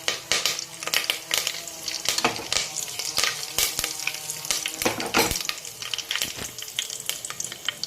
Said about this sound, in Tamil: கடுகு பொரிஞ்சு வரட்டும்.